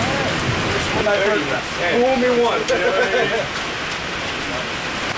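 Rain falls steadily outdoors during an AK rifle shooting match, a constant hiss of close raindrops under someone speaking briefly.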